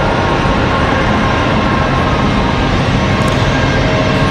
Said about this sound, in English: Looks like we're about to have a 717 departure here in just a minute from Delta Airlines